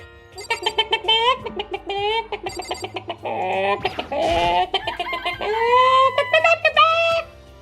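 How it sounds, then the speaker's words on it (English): Chickens cluck repeatedly in a video game, with a rapid run of short clucks and squawks that continues for several seconds, close and loud, while a person talks over them. "This place has chickens, huh?"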